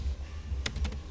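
Computer keyboard keys are tapped in a quick little cluster of clicks, close and clear, over a low steady hum while configuring a Debian 10 server.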